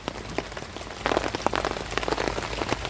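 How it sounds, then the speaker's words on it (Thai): Rain begins falling at night in a jungle near Thailand's southern border, a dense patter of drops on surfaces that thickens after a second into steady, close rainfall. "ตอนนี้ฝนก็ เริ่มมาแล้วนะครับ"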